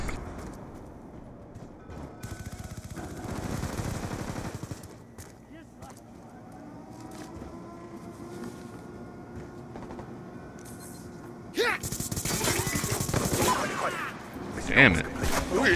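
Gunfire in the video game Black Ops 2 during online multiplayer, with bursts of shots and rapid clattering fire rising and falling across the match, loudest toward the end, under players talking.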